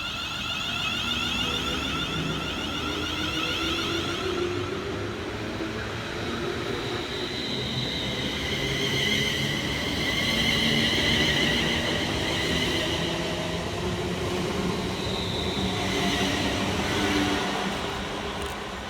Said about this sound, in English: passing through on the fast line is 390-126, working 1H15 for Avanti West Coast